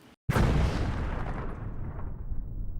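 One powerful explosion from Russian shelling in the Sumy region booms after a brief hush, then rumbles and decays slowly, loud and broad, with no voices.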